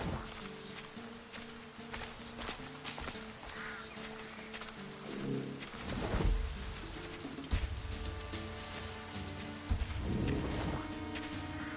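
Stormy weather in Assassin's Creed Rogue: a steady wash of rain with low rumbling thunder rolling in and swelling midway, plus a few heavier thumps, with no talk over it.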